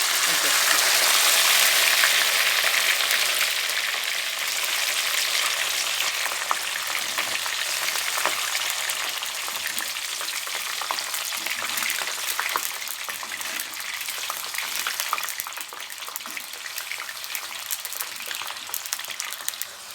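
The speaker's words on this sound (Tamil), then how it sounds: "எண்ணெயில் வச்சோன்னே ரொம்ப நுர இருந்தது இப்போ நுர குறைஞ்சிருக்கு இன்னும் கொஞ்சம் நேரம் வறுபடணும்" Green gram deep-frying in hot oil for a crunchy snack, a dense, continuous hiss of bubbling oil, loudest at first and then slightly softer and steadier, close to the pan, with a voice talking over it.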